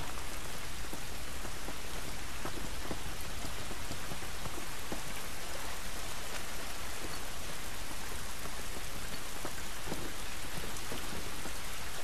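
Heavy rain in The Last of Us video game, a dense constant downpour hissing across surfaces with scattered louder drops, steady and unbroken for the whole stretch with no voices.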